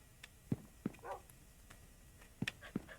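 Dogs in the video game Minecraft give a few short, soft barks and yips scattered over a quiet background, faint and sparse with pauses between.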